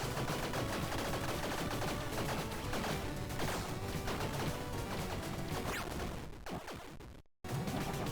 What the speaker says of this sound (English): Despite all these explosions, I don't actually do too much damage.